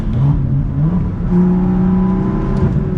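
A BMW M2 with a six-speed manual pulls hard in third gear, its engine note rising in a steady close-up drone through the cabin, with no one talking.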